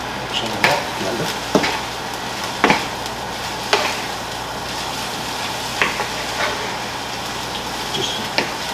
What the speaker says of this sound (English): Just kind of warm up the vegetables a little bit.